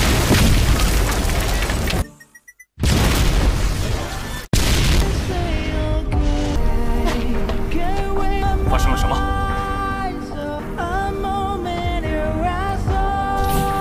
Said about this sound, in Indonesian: Dan tiba-tiba terjadi ledakan besar.